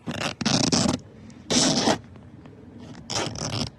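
A zipper on a BMW Z3 convertible top's rear window is pulled open in several rasping strokes of varying length, close up, with short pauses between pulls and no voices.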